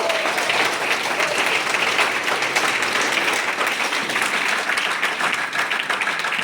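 A crowd at a Vestige team meeting in Basti claps warmly to welcome the ground director, dense and continuous applause filling the room with no talk.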